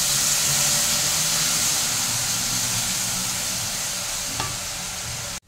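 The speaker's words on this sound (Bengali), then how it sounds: "এই ভালো মতো কষিয়ে নেব আবার মশলাটা।" Masala spice paste frying in a pan for Bengali-style chana dal, a loud continuous sizzle and hiss with low scraping of stirring underneath, steady throughout before cutting off abruptly at the end.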